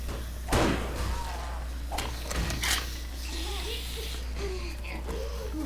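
A door in the survival game 7 Days To Die banging open with a hard slam and several thuds, close and loud over steady low background noise, with a voice talking faintly at times.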